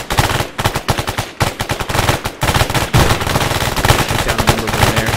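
Rapid automatic gunfire in Arma 3 during a New York City zombie attack, loud dense bursts of shots rattling continuously with only brief gaps throughout.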